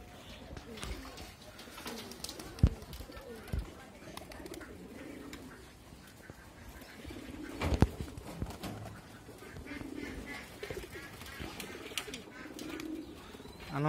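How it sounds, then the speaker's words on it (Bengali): A flock of flying pigeons bathing on a rooftop loft keeps up a continuous close cooing chorus of low, rolling calls, with occasional sharp knocks and splashes and faint voices in the background. "আনন্দের সহিত কবুতর এখন সব গোসল করবে"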